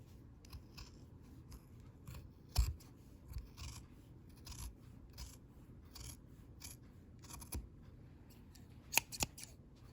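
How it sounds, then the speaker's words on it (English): Scissors snip through red fabric at the neckline of a Saxon-style dress, giving soft, irregular crunching cuts with a few sharper louder snips, close and clear with no talking. "Time to cut the neckline of the red dress as we drew"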